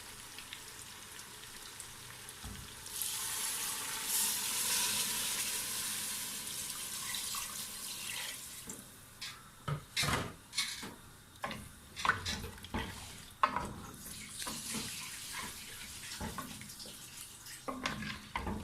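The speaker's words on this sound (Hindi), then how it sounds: "अब हम इसमें पानी डालेंगे" Water pours steadily into a pressure cooker holding goat trotters for several seconds, followed by clinks and knocks of the vessel being handled.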